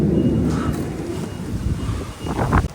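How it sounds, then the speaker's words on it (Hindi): Wind blowing outdoors on a partly sunny late-summer day in Germany, a steady loud rush buffeting the microphone throughout with rumbling gusts. "हवा चल रही है"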